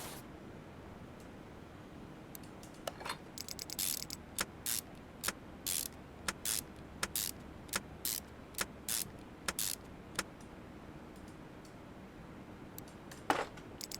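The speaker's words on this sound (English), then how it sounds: "the bolts are now going in and those are brand new" New bolts being fastened during car engine reassembly, heard as a steady series of sharp ratcheting clicks in regular short bursts, close and fairly crisp, with no talking.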